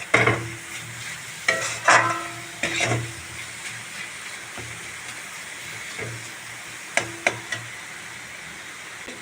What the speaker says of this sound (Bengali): নারকেলটা দিয়ে আমি একটু নেড়ে চেড়ে নেব।